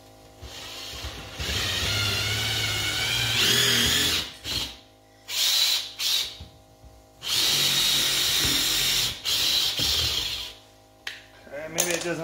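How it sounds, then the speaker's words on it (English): An impact drill whirs loudly in several bursts, starting and stopping with short pauses and a brief rattling at the end. "maybe it doesn't like this impact drill"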